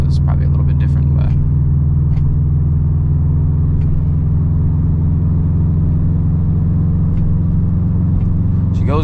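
A 2008 Subaru STI hatchback climbs a hill, heard from inside the cabin as a loud, steady engine drone and road rumble that stays constant throughout, with faint clicks above it.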